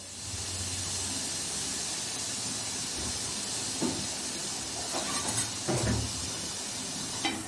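Ajwain leaves sizzle and wilt in a hot clay pot, making a loud, even hiss broken by a few brief scraping stirs near the end.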